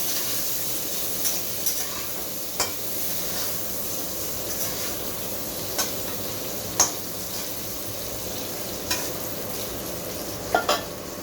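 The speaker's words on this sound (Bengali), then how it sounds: "আলুটাও আমি লালচে করে ভেজে নিই।" Potato pieces fry in hot oil in a pan, browning until reddish, giving a steady soft sizzle with occasional faint clicks of a utensil stirring, no talking.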